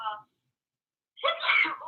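A single short, breathy sneeze bursts out after a brief silence, close and fairly loud, preceded by a faint snippet of voice.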